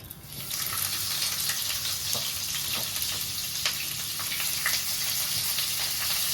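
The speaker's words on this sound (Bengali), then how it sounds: "এবার আমি এতে দিয়ে দেবো পেঁয়াজ কুচি" Chopped onion sizzles in hot oil in a pan after bay leaf tempering, a steady, close, even hiss with faint crackles and no talking.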